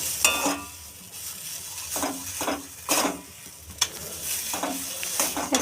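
Onion and bean paste stirred in a hot pan as it fries dry for chim bata, a steady sizzle broken by repeated scraping strokes of a spatula, close and moderately loud with no talking.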